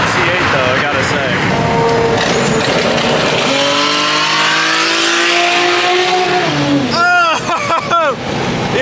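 A red Chevrolet Corvette C8 roars past a Toyota Supra on the road, its engine note rising and sweeping loudly as it approaches and passes close by, with people talking excitedly over it.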